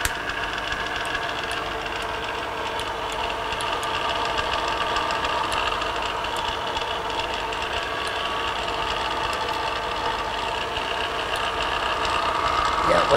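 A surface grinder's grinding wheel runs steadily while precision flatstones are ground, giving an even mechanical whirr and hum that holds level throughout with a faint ticking on top.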